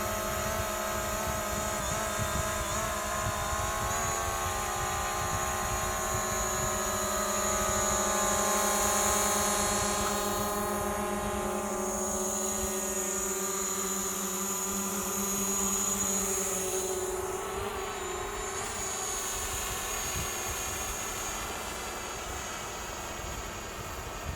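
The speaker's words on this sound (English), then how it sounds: "It's definitely the quietest, quad that I've ever had." A DJI Mavic Pro quadcopter drone flying nearby with a steady, fairly quiet whine of multiple motor tones that shifts and swells as it moves, continuous throughout with no talking.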